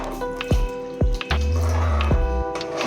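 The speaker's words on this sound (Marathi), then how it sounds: "कुकरमध्ये पाणी टाकून कुकर हलवून घेऊन कुकरचं पाणी ह्याच्यामध्ये आता टाकून देऊ" Water from a swirled pressure cooker is poured into spicy Maharashtrian misal curry, giving close, loud splashing and glugging pours with a few sharp drips and sloshes over about three seconds, no talking.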